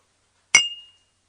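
A single bright clink of glasses touching in a celebratory toast in an antique shop, one sharp ring that fades out over about half a second with no voices.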